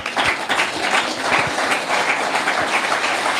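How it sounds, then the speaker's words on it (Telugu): A church congregation at a Telugu sermon breaks into loud, sustained clapping, dense overlapping hand claps filling the hall for several seconds. "చప్పట్లు కొడతారా?"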